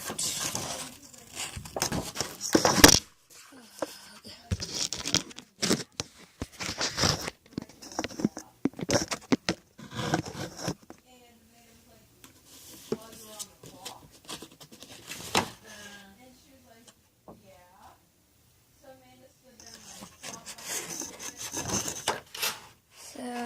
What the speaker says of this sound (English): You're just going to cut these both out.